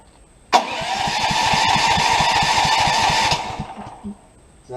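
A CAT portable generator engine cranking over without catching, with a steady rapid chugging of the starter lasting about three seconds, loud and close, then stopping, with no talking.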